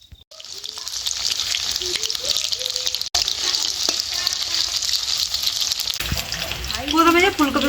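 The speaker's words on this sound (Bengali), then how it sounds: "ফুলকপিগুলো তেলের মধ্যে দিয়ে ভেজে নেব।" Spiced cauliflower florets fry in hot oil with a loud, continuous sizzle and bubbling, broken by a short clank, with a voice briefly heard over the frying near the end.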